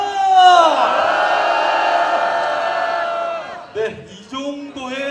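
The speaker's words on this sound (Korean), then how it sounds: "함성 시작!" A crowd at a candlelight rally in Gwangju protesting the National Intelligence Service lets out a loud, sustained roar of massed voices that holds for about three seconds, then breaks into scattered yells and shouts.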